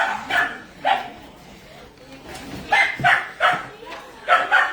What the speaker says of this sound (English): this next room might get a little loud, so we got some more puppies coming through